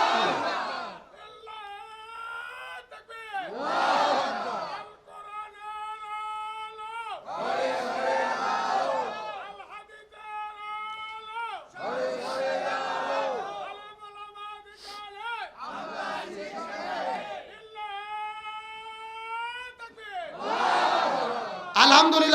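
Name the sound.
crowd shouting takbir chant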